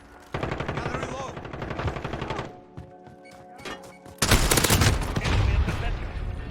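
Automatic weapons fire in Call of Duty Modern Warfare comes in loud rattling bursts, drops to a quieter pause with scattered shots, then erupts into heavy sustained gunfire, with shouted soldier voices mixed in.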